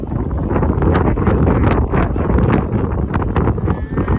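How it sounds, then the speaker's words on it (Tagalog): Strong gusting wind roars steadily across the microphone outdoors at Waterton, a loud, continuous buffeting rush with no letup over several seconds. "Lakas ng hangin."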